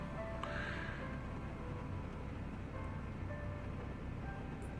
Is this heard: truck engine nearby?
yes